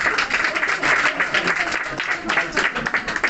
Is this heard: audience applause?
yes